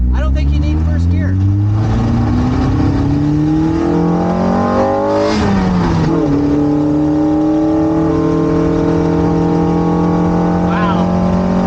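A Honda VTEC-powered classic Mini Cooper pulls away from a standstill in second gear, its engine revving loudly and climbing in pitch through a gear change, then pulling hard again, heard from inside the car with a voice talking over it.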